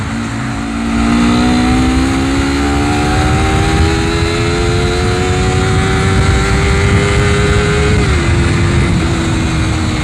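A Honda CBR250RR motorcycle fitted with a 3TECH EVOX X5 silent exhaust pulls away close and loud, its engine climbing smoothly through the revs with a gear change near the end.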